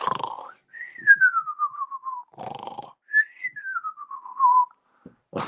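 Someone whistles two long, sliding notes that drift downward in pitch, each one preceded by a short burst of noise, close and clear.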